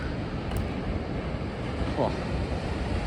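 Ocean surf and gusty wind at a coastal cliff edge beside old artillery batteries at Fort Canby, a steady broadband roar with wind buffeting the microphone throughout, no clear separate wave breaks.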